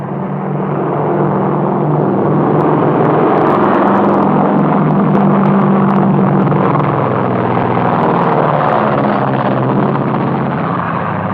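Propeller airplane engine in flight in a 1939 comedy film, a loud, steady droning roar with a low hum that holds evenly throughout, with no voices.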